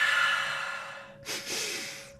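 A full deep breath during a meditation session, a long airy inhale followed by a softer, breathy exhale, close and alone.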